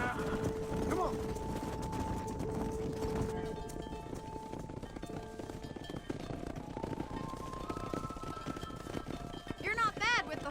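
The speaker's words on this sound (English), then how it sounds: "Keep that herd together now." Cattle herd and horses in the video game Red Dead Redemption, with hooves clip-clopping, lowing cattle and game music, while someone talks over the herd noise.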